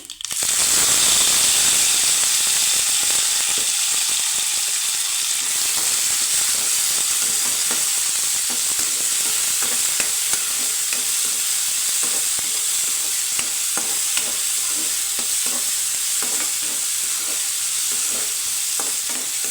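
Chopped onions and tomatoes fry in oil in a pan with curry leaves, giving a loud, steady sizzle and hiss with scattered crackles and occasional stirring scrapes, continuous throughout with no talk.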